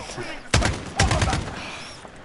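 Automatic gunfire from a gun in Call of Duty: Modern Warfare, heard as two dense, rapid bursts up close that trail off into game noise.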